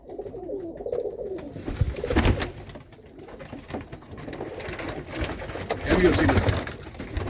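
Pigeons coo softly on and off amid rustling and handling noises, with a few faint voices murmuring nearby.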